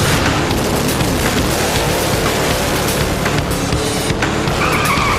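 Drag racing car accelerating hard from standstill to 160 km/h in about two seconds, a dense, loud, roaring engine blast with harsh tire noise, continuous and close.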